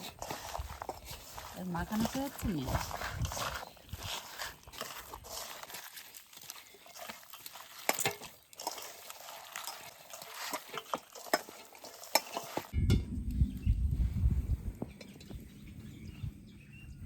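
Raw mutton for Champaran mutton being worked by hand with salt, giving wet squelching and rubbing sounds in uneven bursts up close, with speech in the background and a low rumble toward the end.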